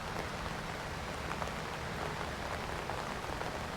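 Steady rain falls on umbrellas outdoors, a dense, even patter that stays constant the whole time with no voices over it.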